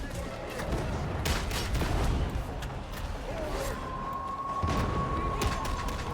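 Grenade blasts and gunfire in the video game Darktide, with bursts of shots and booms rolling over a steady dense battle din for the whole stretch, loud and close.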